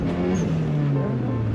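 A Nissan 350Z drifts through snow in a tandem run, its engine droning steadily with a sustained low, wavering tone that holds loud and continuous throughout, no talking over it.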